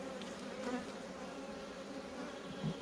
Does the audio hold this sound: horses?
no